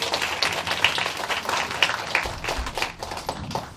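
An audience claps for a speaker at a school information session for incoming high school students, a steady patter of applause across the hall.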